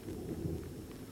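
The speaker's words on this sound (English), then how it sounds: "That's the thunder, and it's raining again now." Thunder rolls as a low, steady rumble during a rainstorm, with the hiss of falling rain over it, continuous and moderately loud with no voices.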